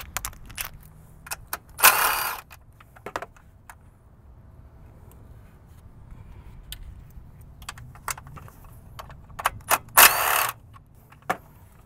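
A wrench works loose the four 10 mm bolts holding the fuel rail on a BMW X5 M54 engine, giving scattered metallic clicks and ratcheting, with two louder bursts of clatter close by and no talking.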